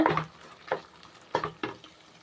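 A spoon scrapes through mor kali flour dough in a pan over low heat, making about four separate stirring strokes, close and moderately quiet, with short pauses between them.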